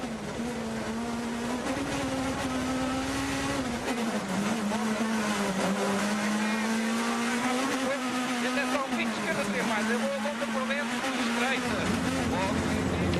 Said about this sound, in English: Well, nice to hear the engine doing its wailing there.